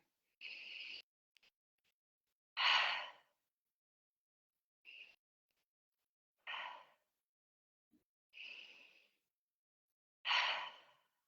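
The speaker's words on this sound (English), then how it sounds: "as you're breathing in through the nose, just allow your chest to fill with air" Slow breaths drawn in through the nose during a guided breathwork exercise, six soft airy inhales and exhales spaced a second or two apart with silence between, close and quiet.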